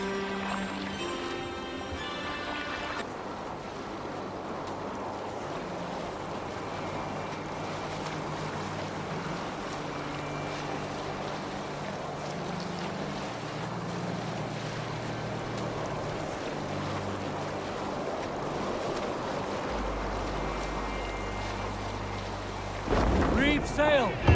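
A Viking longboat moves at sea in Assassin's Creed Valhalla, with a steady wash of waves and wind, creaking and splashing under low music, and loud thuds near the end.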